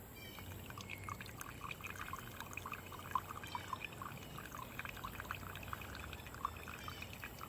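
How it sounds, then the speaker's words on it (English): Water poured over coffee in an Ozark Trail drip brewer makes a quiet, steady trickling pour with small splashy ticks scattered through it, close and faint, without talking. "This is pour over coffee."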